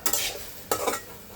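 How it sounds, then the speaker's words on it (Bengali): Fish masala is stirred and sautéed in a pan, with two bursts of spatula scraping against metal over a light sizzle, close and fairly loud. "এটা ভালো করে কষিয়ে"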